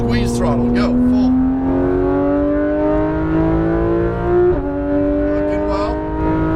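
A Porsche GT3 991 RS engine on a race track climbs steadily in pitch at full throttle, loud and close, with a coach's voice speaking over it.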